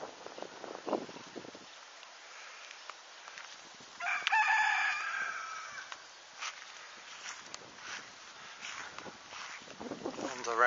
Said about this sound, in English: the local cockerel trying to wake us all up